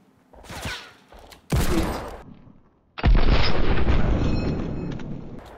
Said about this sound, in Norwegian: Headshot med handcannon!